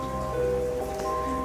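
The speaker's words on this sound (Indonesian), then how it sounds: "Ditemani rintik-rintik hujan." Light rain falls steadily in a soft, continuous patter, close and even throughout with no voices.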